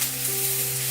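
Food frying in a pan until browned, a steady close sizzle with a constant hum running underneath, no voices.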